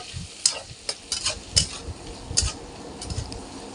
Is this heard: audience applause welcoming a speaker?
no